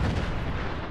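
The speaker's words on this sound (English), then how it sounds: "Hit those artillery strikes." Artillery strikes in Fallout 4, a dense, loud rumbling boom that carries on through the whole short moment.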